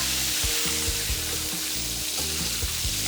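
Food frying in hot oil over a raised flame in a home kitchen, a steady dense sizzle running throughout with a low rumbling undertone, no voices.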